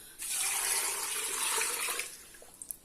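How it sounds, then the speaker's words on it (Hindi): A bowl of water is poured into a pot of beef yakhni pulao, giving a steady, loud splashing gush for about two seconds that trails off into a few small drips and splashes. "साथ में 1 बाउल जो है ना ये पानी का डालूंगी"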